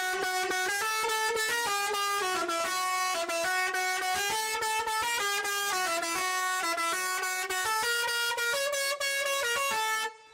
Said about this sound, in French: Montre-nous ton klaxon